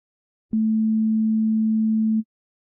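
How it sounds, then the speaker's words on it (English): An analog oscillator produces a pure sine wave, one steady, clean low tone that switches on abruptly, holds evenly for under two seconds and cuts off, with silence around it. "That's a sine wave."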